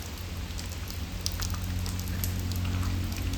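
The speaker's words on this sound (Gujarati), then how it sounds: "વરસાદ ચાલુ થઈ ગયો છે." Steady rain falls outside a home, a continuous close patter with scattered drop ticks over a low background hum.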